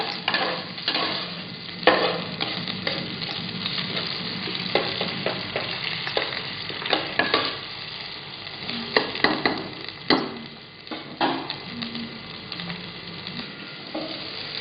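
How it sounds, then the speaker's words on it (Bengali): Stirring in a frying pan before soya chunks coated in egg and cornflour are added, a continuous sizzle broken by repeated scraping and clacking of a spatula against the pan, with no talking. "ভালো করে নাড়াচাড়া করবো।"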